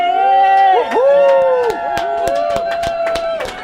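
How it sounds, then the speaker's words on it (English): An indoor crowd from an ability community at the Hershey Centre shouts and cheers nearby, with sustained whooping voices overlapping one another and scattered sharp claps and thumps beneath them. "give us a big shout"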